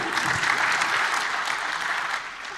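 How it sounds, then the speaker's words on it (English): Steady applause from a conference audience at a summit in Asia, a dense, even patter of many hands sustained for a couple of seconds before tapering slightly. "a big round of applause"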